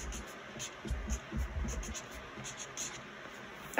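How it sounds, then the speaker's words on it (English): A pen writes on a blank sheet of paper in a series of close, quiet scratching strokes in irregular bursts, with no talking. "we're going to write on our blank sheet of paper"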